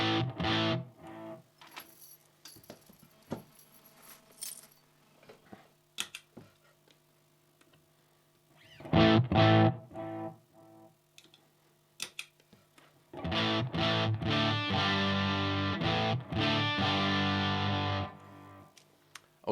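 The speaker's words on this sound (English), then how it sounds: "here's the MXR without the noise gates, both output and distortion set to 12 o'clock." Distorted electric guitar through an MXR Distortion Plus pedal, output and distortion at 12 o'clock, no noise gate, plays in bursts: a few short strums, a brief chord around the middle, then a long, loud, sustained crunchy passage near the end.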